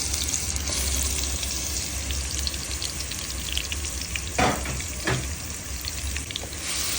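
Spice paste for a green mango pickle hits hot mustard oil at medium heat, giving a steady close sizzle and crackle, with a couple of brief stirring scrapes partway through and no talk.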